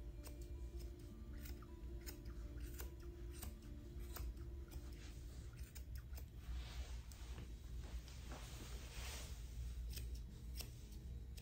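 Grooming shears trim the feet of a Maltese Yorkie mix dog, giving soft, rapid snipping ticks over a steady low hum with no talk.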